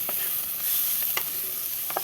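Chopped tomato fries with vegetables and spices in a pan for spicy semolina, a soft steady sizzle broken by a few faint spatula strokes, close and without speech.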